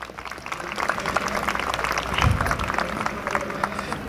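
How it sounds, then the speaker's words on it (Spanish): Applause from a conference audience at a talk on video game development, a dense, moderately loud clatter of many hands lasting the whole stretch, with no voices standing out. "Pues aplaudan,"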